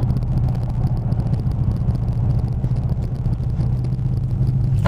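A 1996 Chevrolet Caprice on a test drive after brake pad pin repairs, its engine humming low and steady under a constant road rumble from inside the cabin, with no music or voices.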